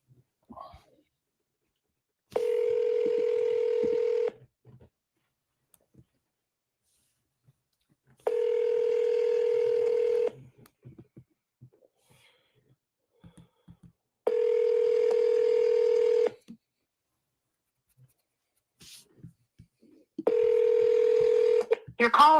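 Telephone tones sound on a seller call, four evenly spaced steady beeps each about two seconds long, separated by quiet gaps with faint background noise.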